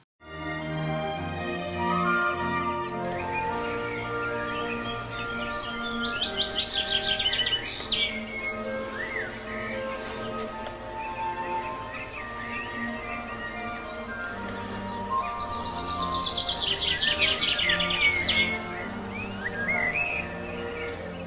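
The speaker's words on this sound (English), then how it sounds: "there's rabbits and pheasants and birds singing all the time" Birds sing and chirp outdoors near a country school drive, with bright, repeated whistled phrases rising in bursts over a quiet background, clear and fairly close.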